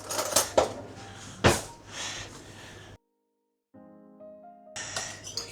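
A fork is pressed and scraped across pie dough in a pan for a berry meringue cake. It makes light, close clinks and taps in short irregular bursts, then a silent gap, a brief faint tonal hum, and more clinking.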